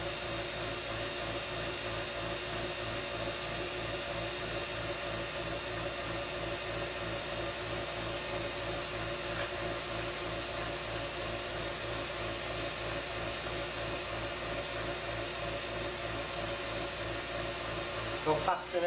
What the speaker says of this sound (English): just keep working it in now. And it'll continually keep polishing this acrylic.